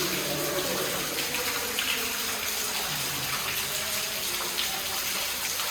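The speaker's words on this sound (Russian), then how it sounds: "Смотрите, даже водопад уже какой-то есть небольшой в самой пещере." A small waterfall inside Red Cave (Kizil-Koba) in Crimea produces a steady, dense rush of splashing water that holds constant throughout, with no voices over it.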